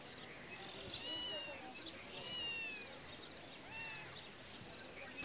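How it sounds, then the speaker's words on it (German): A cat in the online game TERA meows repeatedly in soft, drawn-out calls over steady game ambience, while someone talks throughout. "Oh, hier ist auch mal eine Katze."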